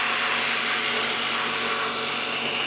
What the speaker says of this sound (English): Have the jigsaw.